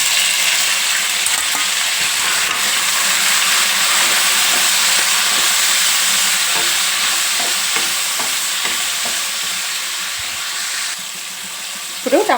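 Four large chopped tomatoes and garlic cloves sizzle steadily in a hot pan for a dosa recipe, a loud continuous frying hiss with occasional stirring scrapes, no talking.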